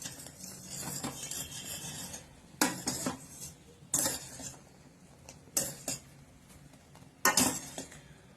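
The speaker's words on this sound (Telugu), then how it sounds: "ఇలా కలుపుకుంటూ ఉండాలి" A spoon scrapes and clanks against a pot while jam is slowly stirred, loud bursts of stirring roughly every one to two seconds over a quieter background, close by with no voices.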